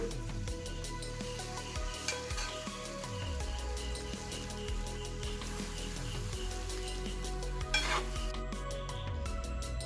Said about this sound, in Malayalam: ഇനി നമ്മൾ നേരത്തെ ഫ്രൈ ചെയ്ത് വെച്ച വെളുത്തുള്ളി ഇഞ്ചി ചേർത്ത് കൊടുക്കാം ഇനി ഇതെല്ലാം കൂടി നന്നായിട്ട് മിക്സ് ചെയ്തെടുക്കാം